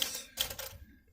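Typing on a Smith Corona Silent Super typewriter: a few sharp mechanical key strikes in a brief burst, close and crisp, followed by a short quiet gap and a final clack.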